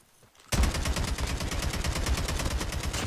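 Rapid automatic gunfire in a Call of Duty Mobile battle royale match, a loud close burst of evenly spaced shots that starts abruptly and continues steadily without pause.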